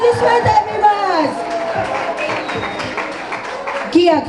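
Audience at a concert in Gori applauds a singer: a dense, steady wash of clapping mixed with crowd chatter and raised voices, holding at an even level for about four seconds and swelling slightly near the end.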